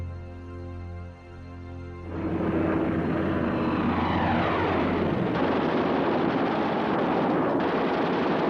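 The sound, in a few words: WWII aircraft engines, Stuka dive bombers and Messerschmitt fighters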